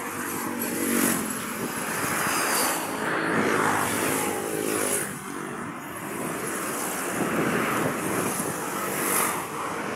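Busy morning road traffic on a long coastal road bridge in Davao City, cars and many motorcycles passing steadily and fairly close, a continuous engine rumble with swells as vehicles go by.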